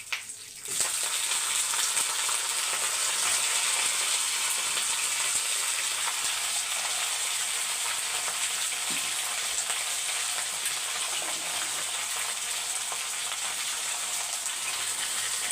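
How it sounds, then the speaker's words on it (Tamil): Raw banana frying with cumin and curry leaves gives a continuous, even sizzle throughout, close and moderately loud with no voices. "இப்போ ஒரு அஞ்சு நிமிஷம் வதக்கி விட்டுக்கோங்க"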